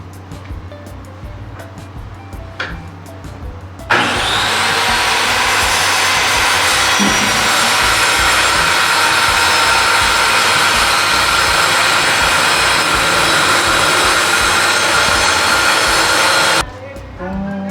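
Power saw with a sharp blade cutting wine rack material, a loud continuous roaring whine that starts abruptly, holds steady for about thirteen seconds and then cuts off, with quieter background noise before and after.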